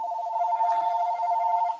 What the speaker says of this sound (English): of course, why wouldn't the phone ring?